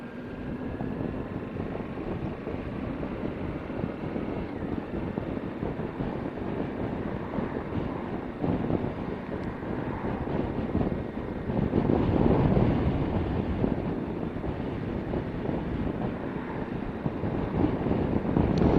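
Suzuki V-Strom motorcycle out on the road, heavy steady wind rush buffeting the microphone over a low engine drone, continuous and loud throughout with a slight swell in the middle.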